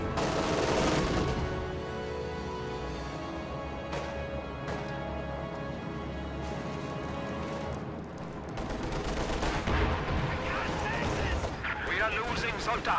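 A Jackson tank destroyer fires on a Panzer IV during a Company of Heroes battle: heavy cannon booms and crashes ring out over a dense, continuous din of gunfire and explosions, loud throughout.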